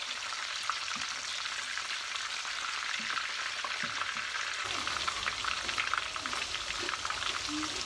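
Gluten-free chicken fingers fry in a pan with a steady, dense sizzle close by. Soft taps and shifting crackles run through it, and the sizzle grows slightly busier after the pieces are turned partway through.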